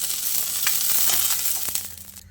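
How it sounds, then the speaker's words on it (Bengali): Pointed gourd pieces fry in hot mustard oil in a kadai with a loud, continuous close sizzle and a few soft stirring scrapes, fading out at the end. "পটলটাকে দেখুন আমি এরকম লালচে করে ভেজে নিচ্ছি"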